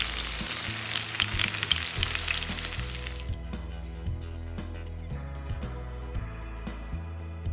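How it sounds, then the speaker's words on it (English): Potatoes pan-frying in a pan for German pan-fried potatoes, a loud dense sizzle that cuts off abruptly partway, followed by quieter clinks and shuffling as they are flipped, over background music. "Now we let the potatoes cook for about 10 minutes or so, flipping them throughout."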